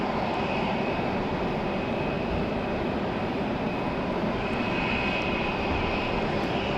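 An Endeavor Air jet at Raleigh-Durham airport on runway 5 left in rainy weather gives a steady, loud roar of aircraft engines that holds without a break throughout, with no voices.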